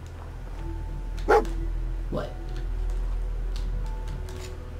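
A dog gives two short barks a moment apart over a steady low hum, with a voice speaking in the background, in the video game Fallout 4.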